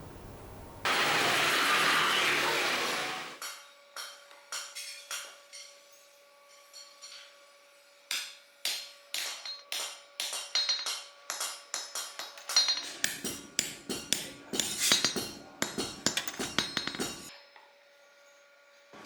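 Hammer blows ring out on metal at a traditional Ba Vinh village forge, first after a few seconds of loud roaring blower or grinder noise, then as a long run of sharp, fairly close clanks that grow faster and denser toward the end.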